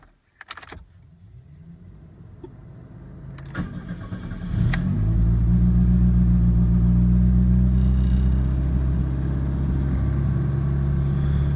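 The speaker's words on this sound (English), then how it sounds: "let's turn the engine on and see if we made any progress" A Pontiac Fiero engine cranks after a few key jangles and clicks, catches around the fourth second, and settles into a loud, steady, high idle rumble close by.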